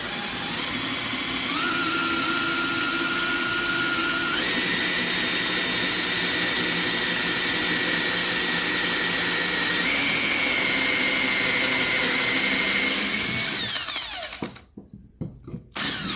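Power drill boring out a forged rifle receiver, a loud, continuous high-pitched whine with shifting tones that grinds on steadily for most of the stretch, then breaks into a few short stuttering bursts near the end.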